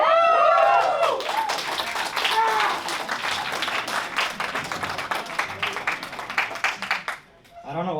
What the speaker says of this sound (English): I don't know why you guys were clapping.